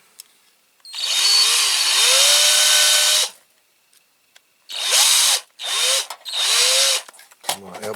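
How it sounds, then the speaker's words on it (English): A power drill bores into the metal base of a Corgi Toys Hillman Imp model car, running in one long whining burst and then three shorter bursts, close and loud, with brief pauses between. "let's get this base drilled"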